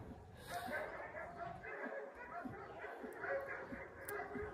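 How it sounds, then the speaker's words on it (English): Several dogs bark and yip in a commotion at an animal sanctuary, repeated sharp barks and whimpers at moderate distance, mixed with a person talking over them. "a lot of commotion with those dogs up there"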